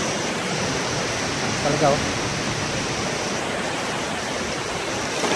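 Wind and rain roaring at the height of Typhoon Ulysses, a steady, loud broadband rush with no breaks, heard from indoors while a person speaks briefly over it.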